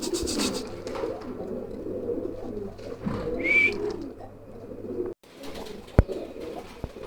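Red checker pigeons at a pigeon farm cooing in low, rolling murmurs that overlap for several seconds, followed by a quieter stretch with a few sharp knocks and faint chirps nearby.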